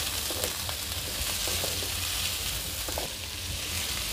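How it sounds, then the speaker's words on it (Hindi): Chopped raw green papaya fries in a pan, a close, steady sizzle with light stirring scrapes and no talking. "इसमें हम डालेंगे पपीता। इसको हम फ्राई करेंगे।"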